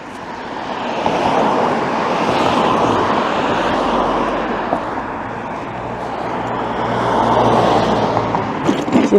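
Road traffic passes on a residential street near Gynn Square, with vehicles swelling up and fading away in two broad waves, loud and fairly close, with no talking.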